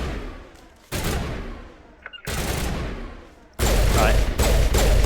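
Sustained gunfire in the video game Mass Effect comes in three long, loud bursts separated by brief lulls, with the final stretch the densest and loudest.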